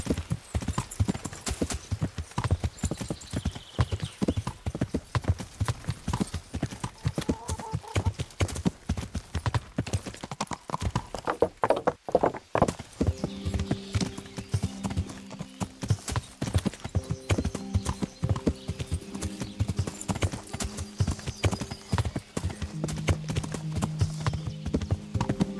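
A horse clip-clops steadily along in the video game Kingdom Come: Deliverance, its hooves thudding in a fast, regular rhythm throughout, with game music entering partway through and no talk over it.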